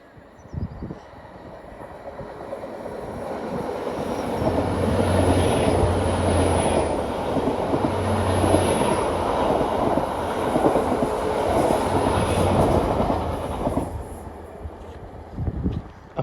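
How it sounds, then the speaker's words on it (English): An LNER Class 800 train on a King's Cross to Aberdeen service passes near Sandy Shotts Bridge, a long steady roar that builds, holds and fades over about sixteen seconds, with no talk. "This is an LNER service from London King's Cross to Aberdeen with 800"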